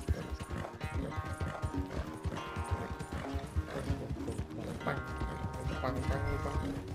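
Horse hooves galloping during a race in Red Dead Redemption 2, rapid rhythmic clip-clop under bouncy race music and game sounds, with a voice speaking over it.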